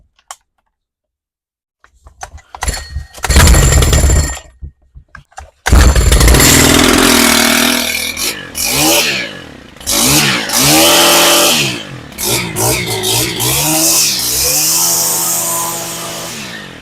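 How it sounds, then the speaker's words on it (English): A Stihl FS130R string trimmer engine is started after priming and choking: a few pull-start bursts, then the engine catches and runs loudly, revving up and down close to the microphone. "So what we're looking for now is the weed whacker head to spin once I start this"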